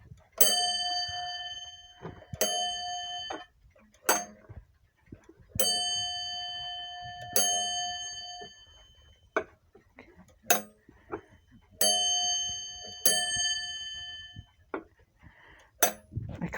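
An old clock's bell rings out in a series of bright metallic clangs, struck singly and in quick pairs with long ringing tails and short pauses between, alone without talk.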